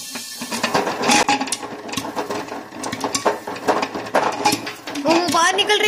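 Irregular popping and rattling bursts from popcorn in a covered pressure cooker, with kernels knocking against metal and a voice speaking briefly over it.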